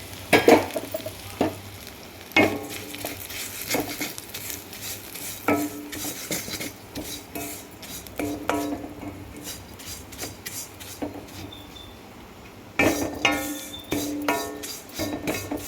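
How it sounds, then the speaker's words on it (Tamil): Aval (flattened rice) roasting in ghee in a pan, stirred with a metal spoon: a steady soft sizzle under repeated scraping and clinking strokes against the pan, with bursts of busier stirring at the start and near the end. "இதாலியா நெய் சேர்த்து அவளை வறுத்துக்குவோம்"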